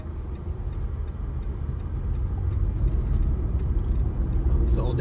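A car driving down Main Street in downtown Brownfield, Texas, with a steady low road rumble and engine drone that swells slightly and holds close throughout.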